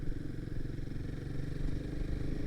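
Royal Enfield Himalayan 452 motorcycle, a 40-plus horsepower engine, running steadily up close with a dense, throbbing low rumble and a mild mechanical clatter, held at a constant level with no voices over it.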